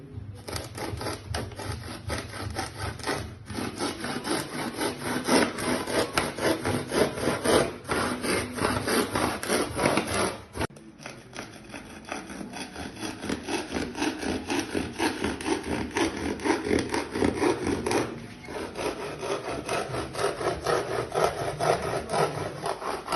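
Wood being sawn into several pieces by hand, with a steady back-and-forth rasping rhythm, loud and close, that pauses briefly once before resuming with continued strokes.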